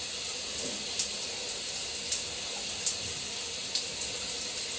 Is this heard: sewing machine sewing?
no